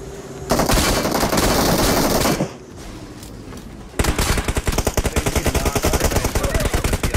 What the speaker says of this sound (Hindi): ये बंदे भाई देखना कितनी गंदी फायरिंग देते हैं यहाँ पे